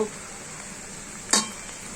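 Bottle gourd peels and papaya peels sautéing with tilapia fish in a pan give a quiet, steady sizzle, broken by one sharp clink of a utensil against the pan near the end.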